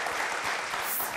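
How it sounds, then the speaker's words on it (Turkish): Studio audience on a Turkish television quiz show breaking into steady applause, a dense wash of clapping filling the room with no voices over it. "Alkışa başlıyorlar."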